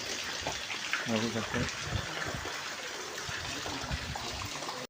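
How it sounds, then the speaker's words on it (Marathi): Heavy monsoon rain on a walk toward a Konkan river to catch crabs, a continuous rushing, trickling wash of water close by, with people talking over it. "आज पाऊस भरपूर पडतो आहे"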